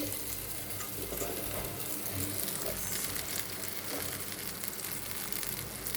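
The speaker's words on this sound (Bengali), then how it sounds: "এটা আমি হালকা করে অল্প তেল দিয়ে ভেজে নেব" Food frying lightly in a little oil in a pan: a steady, soft, close-up sizzling hiss that carries on without pause, with no talking.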